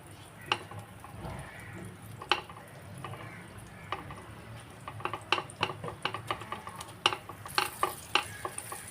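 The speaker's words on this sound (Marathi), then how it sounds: "बटर व्यवस्थित वितळून घेऊया अगोदर" Butter melts in a pan for garlic butter chicken, a soft steady sizzle with intermittent spoon scrapes and taps against the pan, close and fairly quiet.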